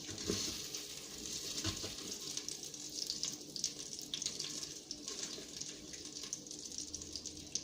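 Water runs from a kitchen faucet into a sink to wash out an Instant Pot pot, a steady, faint hiss and splash with light clatter throughout, and no one speaking.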